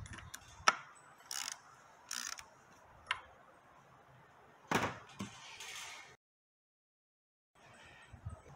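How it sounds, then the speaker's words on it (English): Wrench clicks and metallic ratcheting while removing the 25 mm hex reverse sensor from a Honda K20 transmission, close and fairly quiet, with a series of short sharp clacks and rattles, a brief silent gap, then more clicking. "Next thing is to remove this reverse sensor."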